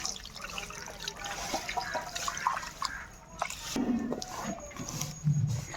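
Raw beef being washed by hand in water, with steady splashing, dripping and sloshing over a close, continuous wet background and a few soft knocks.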